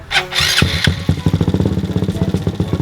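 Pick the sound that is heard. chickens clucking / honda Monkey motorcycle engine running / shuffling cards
honda Monkey motorcycle engine running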